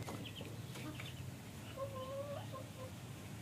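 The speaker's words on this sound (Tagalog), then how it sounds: "So ayan yung mga sisiw natin dito." Backyard chicks peeping softly in short, faint chirps over a low steady background hum, with a couple of clearer cheeps midway.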